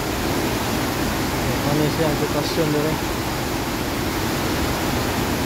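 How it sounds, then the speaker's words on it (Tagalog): Strong floodwater rushes through a creek after heavy rain, a steady, dense roar that holds throughout while someone speaks briefly over it. "Kusog lang ang buong sa tubig."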